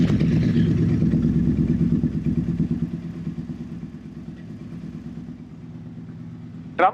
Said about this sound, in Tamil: பா, ஒரு டிஃபரெண்டான ஒரு பேரலல் ட்வின் சவுண்டு.